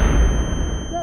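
A loud, deep boom from an explosion in a comedic take on video game weapons, a single heavy rumbling blast that fills the short moment and fades out.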